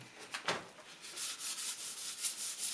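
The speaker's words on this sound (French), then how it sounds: "C'est un papier de verre qu'on utilise à eau" Wet 240-grit sandpaper rubbing over painted wooden furniture, a soft raspy scrubbing in short repeated strokes, close and fairly quiet with no talking.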